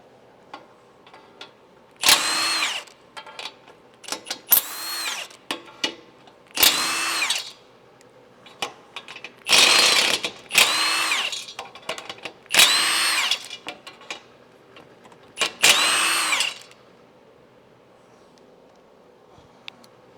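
A power tool spins off the 14mm nuts holding the aluminum crossbar on a Toyota 4Runner bumper, giving about a dozen short loud whirring bursts in uneven pairs, with quiet gaps between them.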